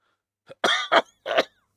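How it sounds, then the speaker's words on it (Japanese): Several harsh coughs in quick succession, close and fairly loud, with no talking around them. "咳が多くてね"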